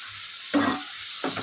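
Spice paste of chilli powder and turmeric with a splash of water hitting a hot pan, a sudden loud hissing burst that fades, then another burst near the end, close up with no voices.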